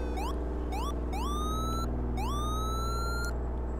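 Police siren from the Flashing Lights video game, cycling through rising electronic wails and yelp tones in several distinct bursts, loud and close over a constant engine hum, with no talking.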